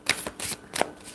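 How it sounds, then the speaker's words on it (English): A tarot card deck being riffled and shuffled in close quiet bursts, with three distinct rustling flurries separated by brief pauses. "I do have to shuffle this deck"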